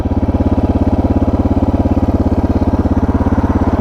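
Suzuki DR650 single-cylinder motorcycle idling close by after a carburettor idle adjustment and exhaust modification, a loud, even, rapid thumping pulse that holds steady throughout with no talk.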